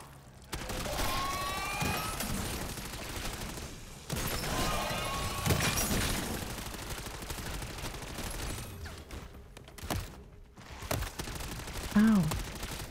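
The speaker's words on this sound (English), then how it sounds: "Stop shooting me!" Rapid bursts of gunfire in Modern Warfare Zombies crackle almost continuously through a chaotic firefight, with dense, loud volleys broken by brief pauses and a few voice-like sounds mixed in.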